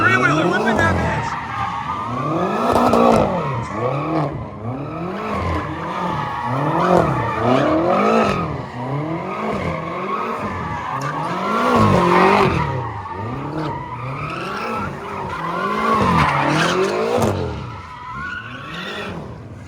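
A three-wheeler car does donuts at a crowded car meet, its bald tires squealing in long repeated wavering screeches over a revving engine, with people shouting and talking around it throughout.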